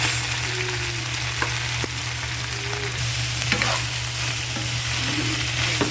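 Broccoli and carrot stir-fried with beef in a hot pan give a loud, continuous sizzle, with occasional scrapes and clacks of a utensil stirring.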